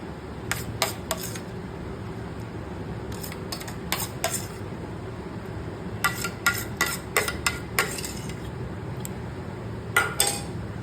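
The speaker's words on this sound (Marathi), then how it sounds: "आता हे मिक्स झालेलं आहे, हे सगळे वेट इन्ग्रेडियंट मिक्स झाले आहेत" Wet ingredients for chocolate banana muffin batter, including a date and milk paste, being mixed in a bowl: repeated light clinks and scrapes of a utensil against the dish in irregular bursts over a steady low background hum.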